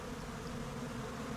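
Honeybees swarm and hum steadily over an open, strong hive being inspected, a dense continuous buzz close by with no talking.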